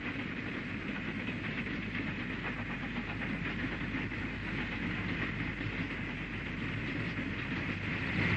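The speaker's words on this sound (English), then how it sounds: "A dirty Black 5 hauls along goods past Fossway Level Crossing between Lichfield and Brown Hills" A grimy Black 5 steam locomotive hauls a goods train past Fossway Level Crossing between Lichfield and Brownhills, a steady, dense rumble of wagons and hissing exhaust that holds at an even loudness throughout.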